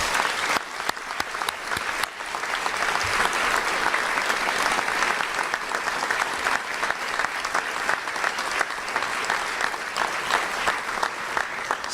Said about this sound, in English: Please give Chris a big round of applause.